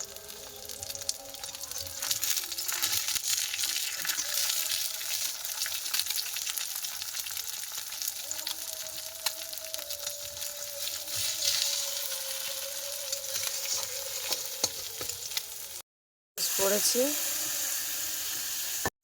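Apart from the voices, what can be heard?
eggplant frying in a pan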